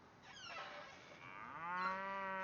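Cow mooing, a couple of drawn-out moos rising and falling in pitch, clear and fairly close, with no talk over them.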